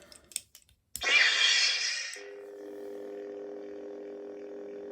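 Luke Skywalker Legacy lightsaber from Galaxy's Edge powering on: a few clicks, then a loud bright ignition whoosh lasting about a second, settling into a steady low electronic hum, close and with no talk.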